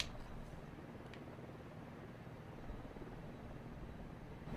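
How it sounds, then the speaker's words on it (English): A video-game helicopter travelling with a convoy keeps up a steady, moderate rotor drone that holds level throughout, with no voices over it. "Oh, it's part of a convoy. Okay, so that'll pass."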